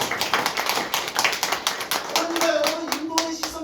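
Lecture audience clapping in a packed hall, close, sharp claps merging into a steady burst, with a few voices rising toward the end.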